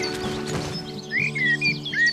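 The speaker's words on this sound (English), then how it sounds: "the place is just full of birds" Birds chirp and sing around a nature reserve pond, with short bright whistled phrases repeating close by over a low steady background hum.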